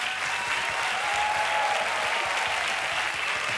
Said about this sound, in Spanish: A ver, que entren, un aplauso.